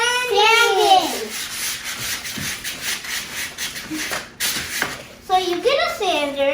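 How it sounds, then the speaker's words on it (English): A hand-held sanding block rubs along a wooden staircase in steady back-and-forth scrubbing strokes close by, while a child and an adult talk over it at the start and end. "We are sanding."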